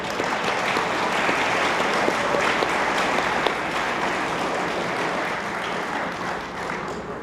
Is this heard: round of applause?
yes